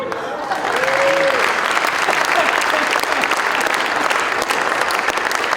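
An auction audience breaks into sustained applause, a dense, even clatter of many hands clapping that lasts throughout, with a brief voice audible near the start.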